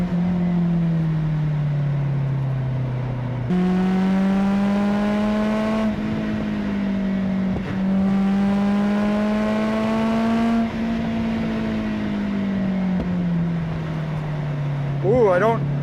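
A Mazda NC Miata at a race track holds a steady droning engine note, with the pitch rising and falling through gear changes and an interior-mic hum underneath throughout.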